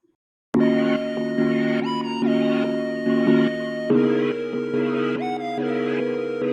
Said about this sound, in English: The smooth lead preset.